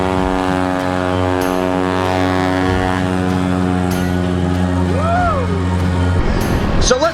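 A STOL propeller aircraft takes off at a Lonestar STOL competition, its engine and propeller droning steadily and loudly at full power throughout, with a brief rising whine near the end.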